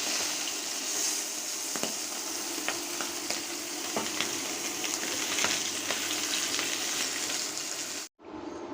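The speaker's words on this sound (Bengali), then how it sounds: "কয়েক পিস মাছ একসাথেই ভেজে নিব।" Several pieces of folui fish fry together in a pan, a steady dense sizzle with crackling oil pops throughout, close and continuous, broken by a brief cut near the end.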